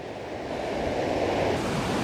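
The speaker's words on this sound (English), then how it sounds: "the last shot of Linderide waterfall just through the trees there, look" Rushing water from Linderide waterfall seen through trees, a steady broadband roar that holds evenly throughout with no talking.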